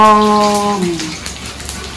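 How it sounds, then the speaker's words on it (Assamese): A brief voiced tone at the start gives way to a steady, crackling sizzle of potatoes frying in a pan, close by and moderately loud. "আলু ভাজিছে"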